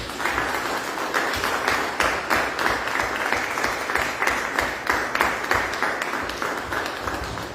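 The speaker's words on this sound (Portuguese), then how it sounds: "Dê um aplauso ao Senhor." Steady applause from a church congregation, dense clapping that keeps an even level throughout without letting up.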